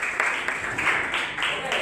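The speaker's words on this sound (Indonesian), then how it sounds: "Tepuk tangan semuanya." Scattered clapping from a small group in a classroom, fairly faint, with a few sharper claps standing out over a murmur of voices.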